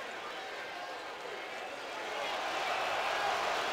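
Basketball arena crowd at a Kansas versus Kansas State game reacting with displeasure to a foul call, a broad continuous roar of many voices that swells louder toward the end.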